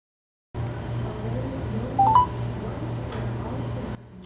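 A telephone call placed to a Virginia COVID vaccine information hotline: faint line hum with a short cluster of dialing tones near the middle and a softer tone later, fairly quiet and without speech.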